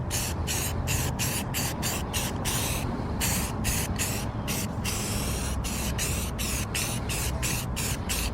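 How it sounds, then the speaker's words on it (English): A car gets sprayed black with spray paint close by, hissing in quick bursts with a short steady stretch in the middle, and the spraying goes on without a break. "Try not to get no overspray on the block wall, please."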